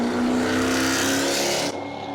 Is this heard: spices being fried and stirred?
no